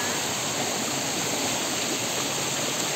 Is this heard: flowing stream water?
yes